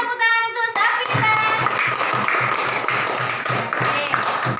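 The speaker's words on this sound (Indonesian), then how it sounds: "Kasih tepuk tangan untuk Safira." Schoolchildren in a classroom clap their hands in quick rhythmic unison after a brief burst of a voice, loud and close with a steady beat running to the end.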